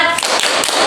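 A classroom group claps a brief rhythmic cheer, a quick burst of loud, close claps.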